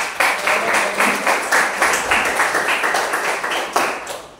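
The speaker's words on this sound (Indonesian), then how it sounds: "Ya, tepuk tangan untuk." A small classroom group claps for a student who has just answered, a steady patter of distinct hand claps lasting several seconds at moderate volume, with no talking over it.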